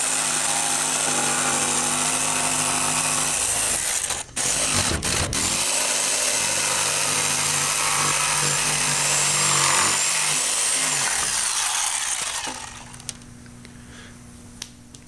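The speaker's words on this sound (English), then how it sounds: "here I've cut the hole out with the jigsaw" A jigsaw cuts a hole in a wooden panel with a loud, steady buzzing rasp that holds for about twelve seconds, briefly dips once, then winds down and stops, leaving faint clicks.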